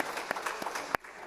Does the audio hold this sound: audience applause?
yes